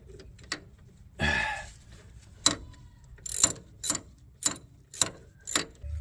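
A ratchet wrench tightens bolts on the rear brakes of a 2003 Yukon Denali XL, giving a near, loud series of evenly spaced metallic clicks after a brief rattling burst, with no talking.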